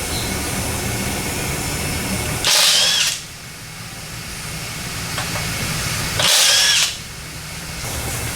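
Impact wrench bursts removing lug nuts from the wheels of a Corvette C8 Z06 during track alignment work, two loud short whirring rattles about four seconds apart over a steady shop hum.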